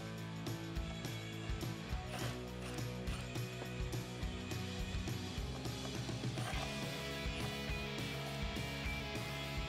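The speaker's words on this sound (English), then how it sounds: "grab a 10 millimeter socket and get our license plate and the frame removed" A 10 mm socket ratchet works the license plate bolts loose on a Jeep Wrangler TJ, clicking in a fast, steady metallic ratcheting pattern that stays close and continuous.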